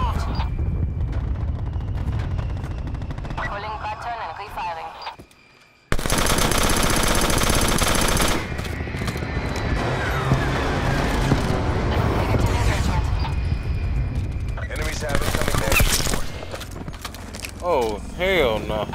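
Heavy strafing gunfire from an aircraft in Black Ops 4 roars in long, dense bursts, loud and sustained, broken by a sudden brief dropout, with booming impacts and a player talking over the action.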